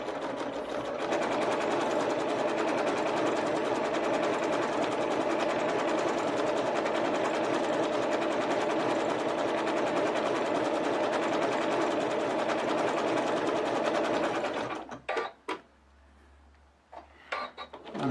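Sewing machine runs continuously at steady speed stitching fabric, a dense even whir lasting about fourteen seconds before stopping, followed by a few quiet clicks and handling sounds.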